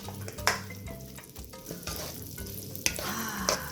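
Onions sizzle and crackle steadily in a hot pan, with occasional scraping stirs of a utensil, close and fairly quiet, no voices.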